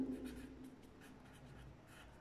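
Writing on a board during a lesson, soft scratchy strokes in quick short bursts, faint and close, with no talking.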